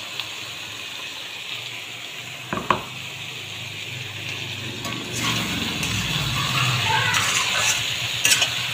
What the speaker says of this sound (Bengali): এবার এই মশলাটার সাথে সবজিটা একটু ভাজা হতে থাকে।